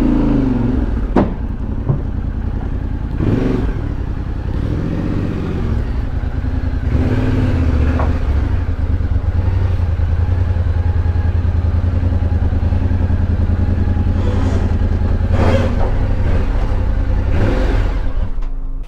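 A new 2022 Yamaha Tenere 700 motorcycle is loaded into a recovery truck, its engine running in a steady close rumble with occasional revs and metallic clatter.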